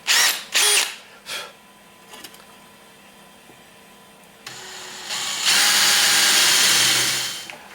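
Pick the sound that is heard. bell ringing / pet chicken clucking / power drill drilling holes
power drill drilling holes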